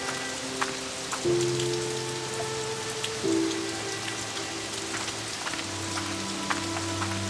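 Steady rain falling on a surface, a dense continuous patter with scattered individual drops, moderately close and unbroken, with no voices.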